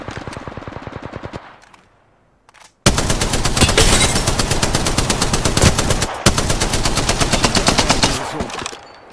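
Apex Legends gunfire: a short rapid burst, a brief near-silent pause, then long sustained loud automatic fire with sharp, tightly spaced shots that breaks once and resumes, no voices.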